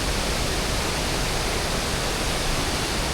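Waterfall beside a hillside pavilion, a steady, dense rush of falling water that fills the whole clip evenly and loudly, with no voices.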